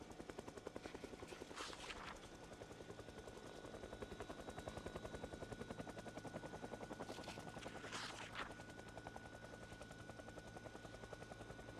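A helicopter hovers nearby in a zombie video game, a steady rapid rotor chop throughout, faint and continuous, with brief bursts of hiss-like noise layered over it.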